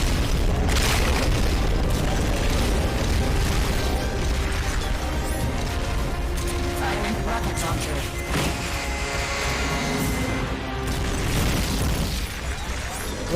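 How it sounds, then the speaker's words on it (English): Heavy booming explosions of supporting fire in the video game Metal Gear Peace Walker roll on continuously, loud and rumbling with crashing bursts, with speech mixed in. "You're about to commence the requested supporting fire."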